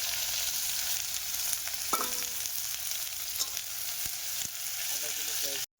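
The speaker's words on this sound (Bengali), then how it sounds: "পেঁয়াজ ফ্রাই করা হবে।" Onions fry in hot oil tempered with cumin seeds, dried red chili and bay leaf over a wood fire, a steady close sizzle running throughout with a few faint stirring clicks.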